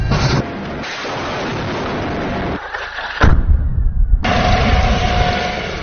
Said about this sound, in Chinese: 坦克导弹超低空飞向敌纵深，精确摧毁装甲目标